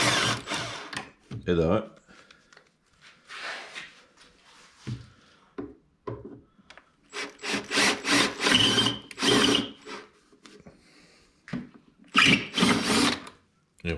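Rivets are drilled out of a Polaris RMK SKS snowmobile during teardown, with several short bursts of a power drill, close and loud, separated by pauses, while someone talks in French between the cuts.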